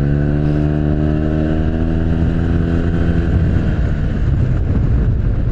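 A Yamaha T-Max scooter engine drones loud and close during a ride, its pitch sliding slightly as the revs shift, with a continuous rumble underneath.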